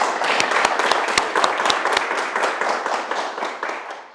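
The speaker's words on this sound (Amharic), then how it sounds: "እባካችሁን አንድ ሞቅ ያለ ጭብጨባ።" A lively round of audience applause at a project closure ceremony, many hands clapping close and loud, steady at first and gradually thinning out.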